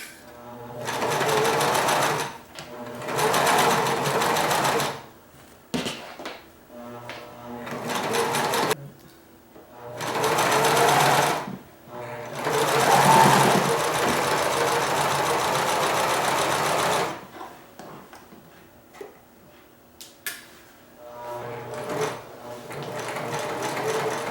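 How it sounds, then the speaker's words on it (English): A sewing machine stitches a panel pillow in several loud, whirring bursts of a few seconds each. Quiet pauses separate the bursts, and a person talks in some of the gaps. "Alright, and just sew. Try not to sew over your needles."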